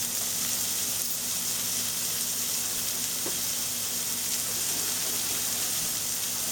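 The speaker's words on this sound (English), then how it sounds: "As the onion cooking to that, I'm going to add 2 cloves of garlic and little bit of ginger" Onion, crushed garlic and ginger frying in a pan, a loud dense unbroken sizzle and crackle throughout, close and steady, with no talking.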